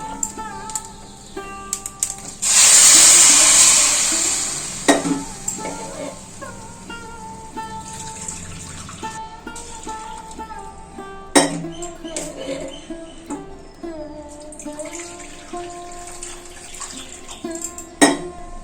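Five bowls of hot water pour loudly into a pot of basmati rice for a temple-style offering rice dish, a rushing gush lasting a few seconds, followed by clinks and clatter of utensils against the pot.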